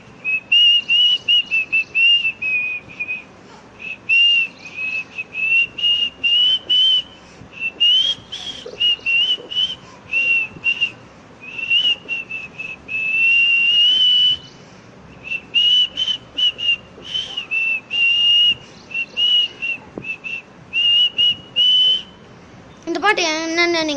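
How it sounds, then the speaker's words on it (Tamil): Someone whistles a Tamil film song as a lively, fast melody in short phrases broken by quick breaths, loud and close, ending with a brief sliding whistle. "இப்போ நான் விசில்லையே பாட்டு பாட போகிறேன்"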